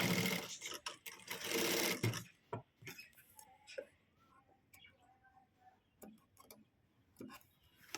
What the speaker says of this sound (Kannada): ಸ್ವಲ್ಪ ಜಾಸ್ತಿ ನಾವು ಸ್ಟಿಚ್ ಹಾಕಿದ್ರೆ ಡೋರಿ ರೆಡಿ ಆಗುತ್ತೆ